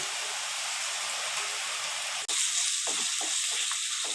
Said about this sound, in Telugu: స్పూను అల్లం వెల్లుల్లి పేస్ట్ వేస్తున్నాను.